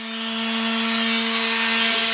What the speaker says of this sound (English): I'm going to sand them first with some 100 grit sandpaper, get rid of all the kind of unevenness on the joints and such